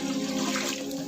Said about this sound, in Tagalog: Pwede na ako maglagay ng tubig.